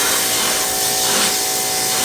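Pressure washer blasting a spray of water onto an abandoned, beat-up Lexus under restoration, a loud steady broadband hiss that runs continuously at close range with no pauses.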